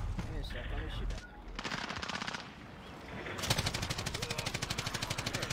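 Rapid automatic gunfire rattles out in bursts at enemy aircraft in the video game Modern Warfare, ending in a long sustained stream of shots, with brief game sounds between bursts.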